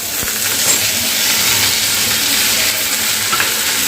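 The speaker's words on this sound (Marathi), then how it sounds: "त्याला आपण चांगल्या तेलामध्ये फ्राय करून घेऊया" Cut potato frying in oil for a potato and egg curry, a steady, loud broadband sizzle with occasional stirring clicks, close up and continuous with no voices.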